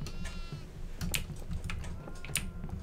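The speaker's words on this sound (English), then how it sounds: "there's so many goats" Goats bleat in the farmhouse horror video game DEVOUR, several short wavering cries overlapping in quick succession, mid-distance, with faint clicking from a keyboard underneath.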